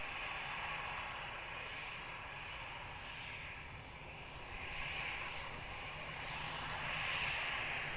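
An airliner takes off from runway 02 at Lisbon Airport, a steady distant jet roar with slow swells in intensity throughout.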